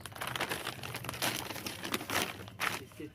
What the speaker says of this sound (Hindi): एक पॉलीथीन का शीट डाल लीजिए।